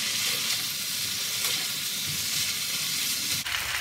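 Chicken frying over a high flame in a home kitchen, a steady, dense sizzle that holds at a constant level throughout, with a brief dip near the end and no talking.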